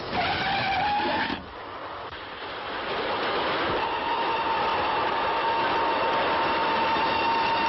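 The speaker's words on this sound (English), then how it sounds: "Yes, look. The train." A train rumbles past steadily with a droning whistle-like tone and grinding wheels in a 1936 film, loud and continuous, no voices.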